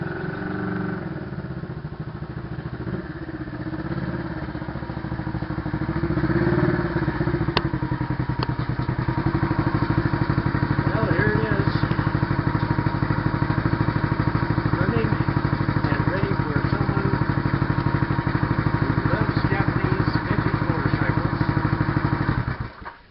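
A vintage Japanese Honda motorcycle engine runs steadily, a lower putter at first that rises into a louder, constant, close-up drone with light mechanical clatter.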